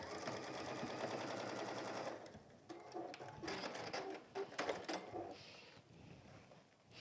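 A sewing machine stitches along the bottom of a peg bag lining in a fast, steady mechanical chatter, then stops and restarts in shorter bursts with handling clicks between runs.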